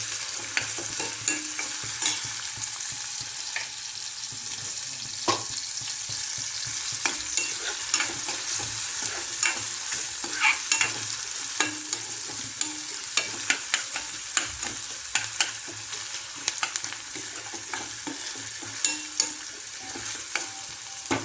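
Onion frying in a pan for a Marathi black-eyed bean curry, a continuous crackling sizzle with frequent scraping and tapping stirs of a spoon throughout, close and fairly loud with no talk.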